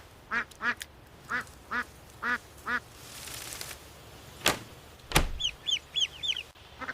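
Ducks being settled for the night quack in short, evenly spaced bursts of one to three calls, fairly close, with a hiss of noise and a couple of sharp knocks midway.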